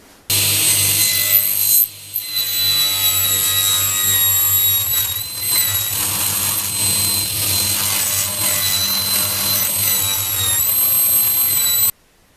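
A power saw cuts along the edge of an oak shelf board, a loud continuous high-pitched whine with a short break near the start, stopping abruptly at the end.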